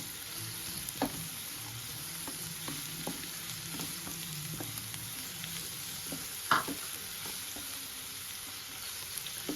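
Curry leaves with crushed ginger and garlic frying in oil for a chicken dish, a soft steady sizzle with scattered clicks and scrapes from stirring, one louder knock near the end.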